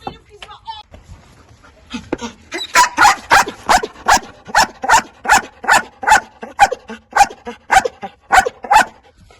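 A search and rescue dog trained for earthquake rubble work barks in a loud, close, regular series of a dozen or more sharp woofs, preceded by brief handler voice and whines.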